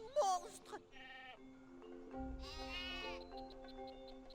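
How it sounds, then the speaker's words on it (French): Sheep in the Skylanders Spyro's Adventure video game bleat in a few quavering cries, one after another. Faint game music plays underneath. "Hugo, ce sont juste des moutons."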